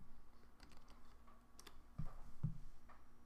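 Keyboard typing for a search in a browser app store, a few soft scattered clicks and two firmer key taps near the end, faint against a low steady hum.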